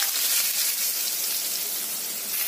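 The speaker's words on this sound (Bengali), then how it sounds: "আলুটা ভালো করে ভাজা ভাজা করে নিতে হবে।" Potatoes frying in oil with panch phoron spices, giving a steady, even sizzling hiss that stays loud and close throughout, with no talking.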